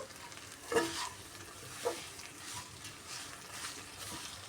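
Curry leaves frying in a little oil in a kadai while being stirred, a soft sizzle broken by a few louder scraping stirs, close and quiet.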